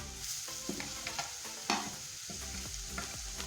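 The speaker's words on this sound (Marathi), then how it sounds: "छान मिक्स करून घेऊया टोमॅटो आपण यामध्ये।" Tomatoes being stirred into roasted masala in a pan for masala pav, with a spoon scraping and knocking repeatedly against the pan over a steady sizzle of frying, close and fairly loud, with no voices.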